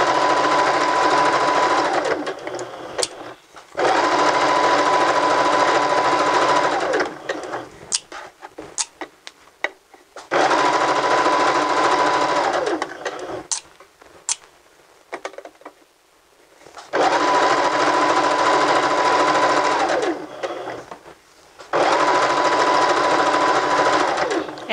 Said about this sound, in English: Make sure your machine is still set for a basting stitch and go ahead and baste all the way around the casing.